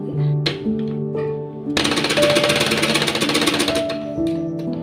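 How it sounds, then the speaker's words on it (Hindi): Sewing machine stitching the back panel of a baby top, its rapid even chatter starting after a quieter stretch and running steadily for a few seconds, close and loud, with faint tonal hums around it. "और अब हम इसे अंदर की साइड रखते हुए इस वाले बैक पार्ट पर भी सिलाई लगा लेंगे"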